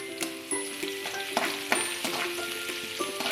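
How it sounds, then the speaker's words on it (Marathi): Chopped ginger, garlic and green chilli frying in oil, with a steady sizzle close by and sharp clinks of a spatula against the pan at irregular intervals. "बारीक चिरलेलं आलं आणि बारीक चिरलेलं लसूण दोन्ही टाकून ते परतून घ्यायचं आहे व्यवस्थित त्याला।"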